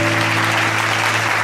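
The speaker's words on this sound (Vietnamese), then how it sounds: "Một tràng pháo tay để động viên cô ấy." Studio audience applause on a television show, a short, loud, steady wash of clapping from a crowd with a tonal hum sitting beneath it throughout.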